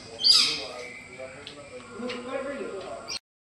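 Harsh squawks and calls from a multicoloured parrot ring out near the start at Sakkarbaug Zoo, Junagadh, followed by more scattered bird cries over steady background noise.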